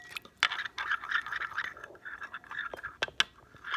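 Orange glaze ingredients are whisked together in a bowl, giving quiet, irregular scraping and clicking strokes close by, with soft scratchy bursts and brief pauses.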